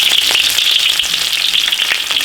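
Ginger, scallion and chili sauce stir-fry in hot oil, giving a loud, steady, close sizzle that crackles continuously with no voices.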